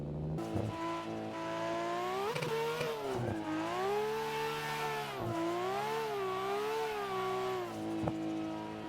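Car engine in the Assetto Corsa racing game, revving hard during clutch-kick launches: a loud, close whine rising and falling through repeated swells, broken by brief sharp clutch stabs, with no talk over it.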